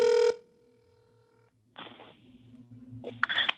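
A telephone call being placed: a short burst of dialing tones, a pause, then repeated ringback pulses on the line before a voice picks up.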